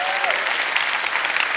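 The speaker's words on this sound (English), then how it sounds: "Would you give this man a round of applause?" A church congregation breaks into a brief, dense burst of applause from many hands clapping at once, filling the room evenly.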